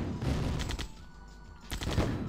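Rocket bikes fire on a Humvee in the Command & Conquer game, a burst of sharp, loud explosive blasts and rapid fire that fades briefly mid-way, then erupts again in a second cluster of reports.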